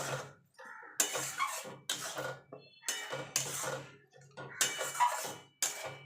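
Spice paste with ground tomato being fried and stirred in a pan for chicken and potato curry, a spatula scraping and knocking against the metal in repeated bursts with brief pauses between strokes.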